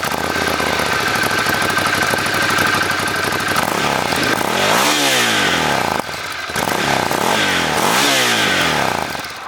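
2018 Ducati Scrambler Cafe Racer motorcycle engine running loud and close, a rough idle broken by several quick revs that climb and fall back, with no talk.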